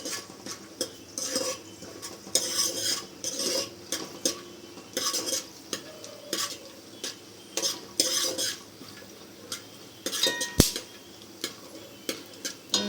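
A metal spoon stirs vermicelli frying in ghee in a pan, sharp clinks and scrapes repeating in irregular bursts over a faint sizzle, close and clear with no talking.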